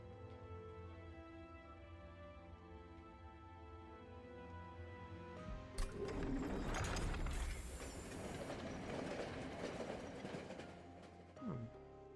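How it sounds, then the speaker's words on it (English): Train in the video game Monster Train rumbling back to life: a sudden burst of broadband rumble and hiss rises over a quiet musical drone midway, sustains loudly for several seconds, then fades with a brief squeal near the end. "The train rumbles back to life, leaving the glowing relic behind for another lucky traveller."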